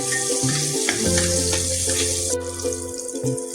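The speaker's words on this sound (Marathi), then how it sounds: "तितून आमी घालुया आतां बारीक चिरलेली आलें आनी लसूण आनी मातसो तळसून घेवया" Finely chopped ginger and garlic fry in a little oil for a Goan mushroom xacuti, a bright crackling sizzle with scraping and tonal clinks from the pan, close and fairly loud, without any talking.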